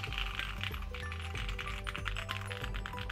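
Quick light clicks and clacks from typing on a small mechanical keyboard with unlubricated switches, rattling steadily and close up with no talking.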